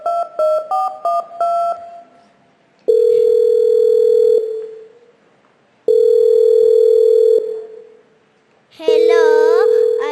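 A series of quick touch-tone dial beeps sounds first, then long steady tones repeat with gaps between them, loud and clear, from a telephone on stage at a school concert.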